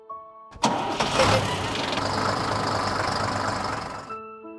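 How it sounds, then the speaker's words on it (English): A bus engine cranks and catches with a sharp burst, then runs at a steady, loud rumble for several seconds before cutting off abruptly, heard close by. "Bus."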